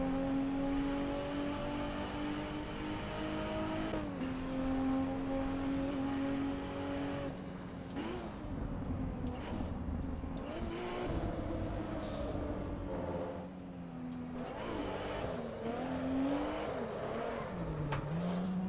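A car drifting in Assetto Corsa Evo, its engine droning and revving up and down with tonal tire squeal rising and falling as the car slides, steady and close throughout.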